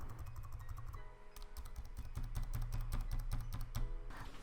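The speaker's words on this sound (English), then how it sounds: "let's look at a sound from a laptop keys with single key press" Laptop keyboard keys pressed one at a time in quick, uneven succession, crisp clicks close by over a low steady hum.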